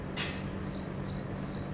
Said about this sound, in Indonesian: apa cangkrik atau belalang, saya nggak tahu, tapi suara krik krik krik krik, suara binatang hutan